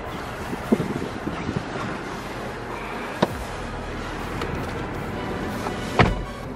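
Strong wind roars and buffets the microphone steadily at an abandoned railway, with a few sharp gusts and knocks breaking through the constant rushing noise.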